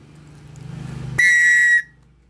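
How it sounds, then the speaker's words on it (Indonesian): A single sharp, piercing survival whistle blast rings out for about half a second after a brief low rumble, then cuts off abruptly. "ini peluit survival"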